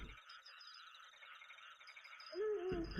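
An owl hoots in a video game, a single low, steady hoot near the end rising out of a faint ambient game soundscape, with no one talking.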